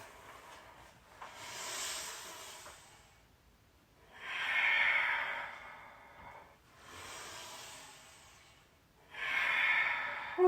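Deep yogic breaths during a vinyasa session, long whooshing exhales that swell and fade in a slow, steady rhythm, close and alone with no talk.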